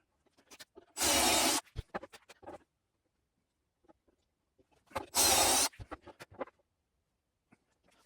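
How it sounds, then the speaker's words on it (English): Power drill with a 3/8 inch bit boring dowel holes in black walnut: two short, loud whirring bursts about four seconds apart, each followed by light scraping and tapping of the wood, in an otherwise quiet workshop. "I don't put the drill bit too deep when I'm going ahead and drilling the holes"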